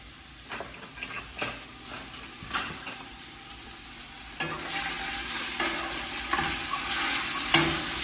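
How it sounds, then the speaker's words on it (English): Bacon sizzles and fries in a pan for a Southern bacon-fried cabbage, with scraping stir strokes that come back every second or so and grow louder and denser partway through, close up and with no talk. "Let me stir this bacon."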